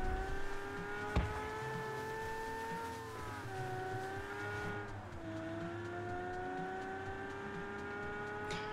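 A Lamborghini drives in the video game PUBG, its engine droning steadily with pitch rising and dipping as it shifts and accelerates, plus a brief knock early on, heard alone without talk.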